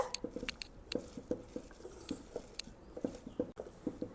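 Masala vada batter of ground lentils, small onions, chilli powder and salt is squished and kneaded by hand, giving soft, wet, close slaps and squelches in a loose, uneven rhythm.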